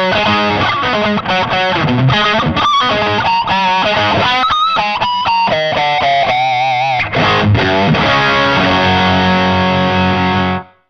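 Heavily distorted electric guitar through a distortion pedal at full gain plays loud, saturated chords and notes, with a wobbling sustained tone near the end before the sound cuts off.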